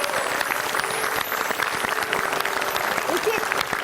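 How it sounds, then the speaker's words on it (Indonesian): Studio audience at a TV crossword quiz show breaking into steady applause, a continuous, fairly close wash of clapping with some voices underneath. "Tepuk tangan."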